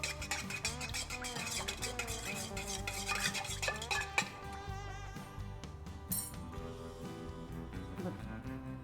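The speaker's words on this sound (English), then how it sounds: "Mix those ingredients together." Bread dough ingredients being mixed together in a bowl, with quiet scraping and clinking of a utensil against the bowl and a sharp knock near the middle, beneath a musical background.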